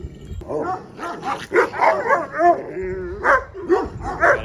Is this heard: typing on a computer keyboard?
no